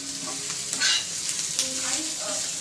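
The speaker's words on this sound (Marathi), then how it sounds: "आता इथे आपण कांदा भाजून घेऊया।" Cut onions with a little oil sizzle and fry in a pan over a gas stove, a close crackling hiss with scraping stirring sounds that swell and dip.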